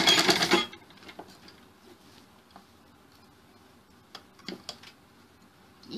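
A sewing machine stitches a Chinese-collar sherwani suit. A loud burst of rapid mechanical running opens, then gives way to faint, scattered clicks and ticks of handling the fabric.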